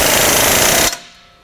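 A power tool tightening skid plate bolts on a CFMOTO ZF800, a loud close rapid rattling burst that cuts off abruptly near the end, leaving a brief fading tail.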